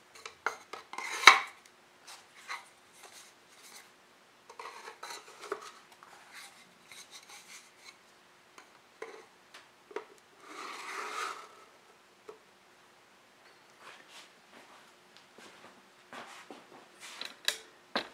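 Small wooden surround pieces, cut with 45-degree ends and an eighth of an inch tall, slide into a wooden keepsake recipe box with faint scrapes, soft rubbing and scattered light clicks and knocks at close range.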